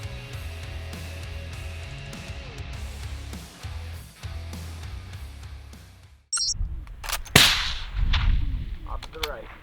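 Precision rifle shots at an outdoor long-range shooting competition crack loudly in the latter part, one or two sharp reports with echoing tails, following a quieter stretch of steady background hum.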